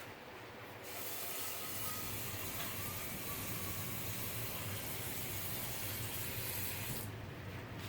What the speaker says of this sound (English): I put an indeterminate amount of water in the pot.